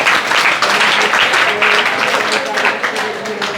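A classroom of children claps together in a dense, steady round of applause, close and lively for a few seconds.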